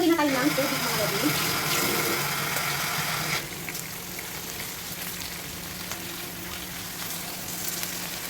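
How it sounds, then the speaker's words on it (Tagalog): Water pours into a pan of pork caldereta, a steady gushing splash loud at first, then settling into a softer simmering hiss. "At maglagay na tayo ng tubig mga lodi."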